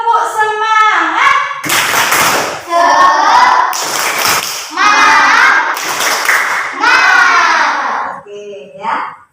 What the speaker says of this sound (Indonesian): ayo kita